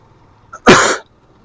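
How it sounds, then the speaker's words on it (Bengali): A single short, dry cough bursts out close and loud, lasting about a third of a second against near silence. "আমার আবার হয়েছে এদিকে শুকনো কাশি, ঠিক আছে, খুসখুস কাশি।"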